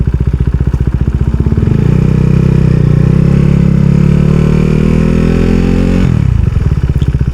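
Motorcycle on a busy road slows under engine braking with the clutch released and throttle closed, its engine drone loud and close, with a clattering rhythmic chug throughout.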